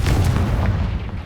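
A Confringo fire spell in Hogwarts Legacy bursts with a single loud, deep blast that rolls off quickly over just over a second.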